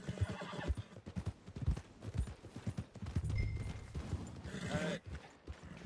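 Hooves clip-clop in a rhythmic series from a horse in Red Dead Redemption 2, with a whinny and other faint game sounds, all fairly quiet.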